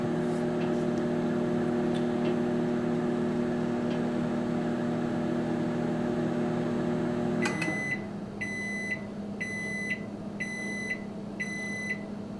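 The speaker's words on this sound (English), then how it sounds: "Magnetron's louder than the old microwave, but not a huge deal." A Magic Chef HMM1611B2 microwave hums steadily with its magnetron running, a loud continuous drone that stops abruptly and gives way to a series of five evenly spaced electronic beeps.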